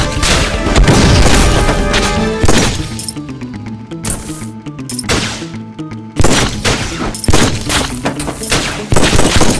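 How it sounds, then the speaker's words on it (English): A shotgun fires repeatedly in the Undead Squad video game, making loud booming blasts with crashes and impacts over busy game music. "Shotgun!"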